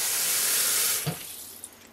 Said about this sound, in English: I'm going to fill this pot with cold water